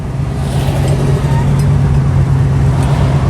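A Malibu car rolls past at the Hot Rod Power Tour, its steady low engine rumble blending with surrounding traffic noise for a few seconds.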